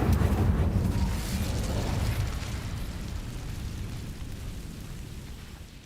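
The Incendio fire spell in Hogwarts Legacy goes off as a single loud fiery burst, then trails into a rushing roar that slowly fades over several seconds.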